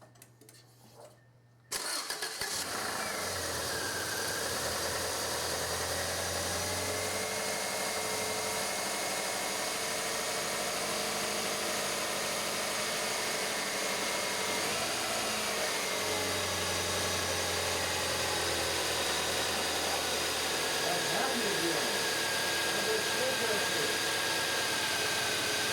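A 1996 Subaru Legacy 2.2L engine cranks and catches after a fuel pump replacement, then settles into a steady, fairly loud idle close by for over twenty seconds, with a few brief rises in revs.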